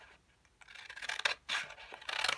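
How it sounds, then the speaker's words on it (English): Scissors cut through thick scored cardstock while trimming a papercraft Easter basket, giving several crisp, close rasping snips that swell and fade in quick succession, with no voices. "It's a really good sound, isn't it, cutting through this paper?"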